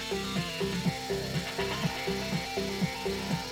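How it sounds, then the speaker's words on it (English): A World War II Spitfire rotary converter drives an amplifier, giving a steady close mechanical hum and whine with a rhythmic, rubbing pulse that repeats about twice a second, with no voices. "You can just hear it over the sound of the rotary converter running."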